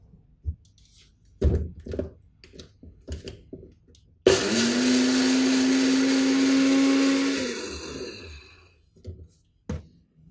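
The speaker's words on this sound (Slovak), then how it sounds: "Pozeraj, jak rýchlo to rozmixuje." A Nutribullet blender with six blades blends food in one loud continuous whirring run of about three and a half seconds that winds down at the end, preceded and followed by handling knocks and clatter.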